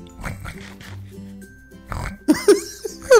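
Pig oinking in Minecraft with a TotalCraft mod, several short grunts in the second half, the earlier part filled with game sounds.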